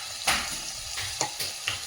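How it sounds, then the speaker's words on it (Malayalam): Butter mushrooms with turmeric sizzle steadily in a clay pot while a spoon stirs them, sending out several scraping strokes over the constant frying hiss, loud and close without any talking. "മഞ്ഞൾപ്പൊടി ചേർത്ത ശേഷം നമുക്ക് നല്ലതുപോലെ ഒന്ന് ഇളക്കി യോജിപ്പിക്കാം"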